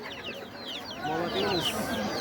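Two ducks and native desi chickens at a busy livestock haat in Golakandail, Narayanganj, with scattered clucks and bird calls rising over a steady crowd murmur, voices talking close by.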